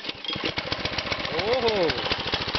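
A Briggs Intek 5.5hp engine on a Craftsman front tine tiller runs just after a cold start, chugging close and loud with a fast, even pulse, while a person speaks over it.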